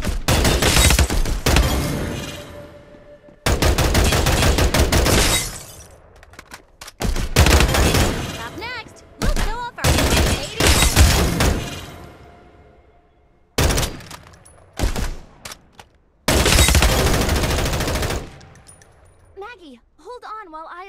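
Gunfire from the Farlight 84 battle royale video game arrives in loud, dense bursts and rapid volleys, with pauses, clinks and short electronic tones between the salvos.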